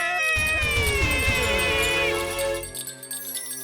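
A single drawn-out meow rises and wavers for a couple of seconds before trailing off, heard close and clear.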